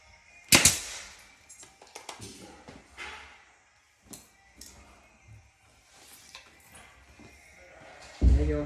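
Nail gun shooting nails while installing an interior door, giving a sharp loud pop followed by scattered lighter clicks and handling knocks, and a final thump at the end.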